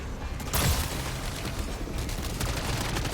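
Dense, continuous gunfire while shooting zombies in Call of Duty MW3's Dark Aether mode, a steady loud wash of rapid shots and booms with no pauses across the whole stretch.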